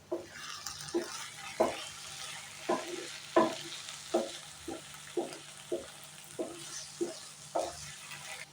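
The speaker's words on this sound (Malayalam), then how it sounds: "മസാലയും വെണ്ടക്കയും നല്ലപോലെ മിക്സാക്കിയതിന് ശേഷം 2 മിനിറ്റ് മൂടി വെക്കാം." Okra being stirred and fried with masala in a pan, a steady rhythmic scrape of the spoon roughly every half second over a continuous soft sizzle, close and moderately loud, with no talking.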